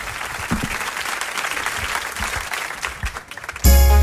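Studio audience applauding a singer on a live television show, dense clapping that swells and holds, then cuts abruptly to louder sound at the end.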